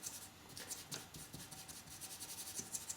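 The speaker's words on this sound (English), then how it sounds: "you can use the rubber, the eraser to rub out the marks" A rubber eraser scrubs pencil marks off paper during a shading drawing demo, with quick, repeated close-up strokes that sound soft and papery.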